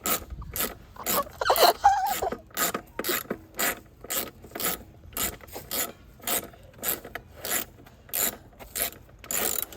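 A ratchet wrench tightens fasteners on a Briggs and Stratton lawn mower, giving a steady run of evenly spaced rhythmic clicking strokes, close and fairly loud, with a brief scraping rub near the start.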